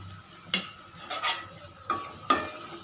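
Chili and coriander powder masala sautéing in a pan for quail gravy, with four sharp scraping stir strokes over a soft, steady sizzle.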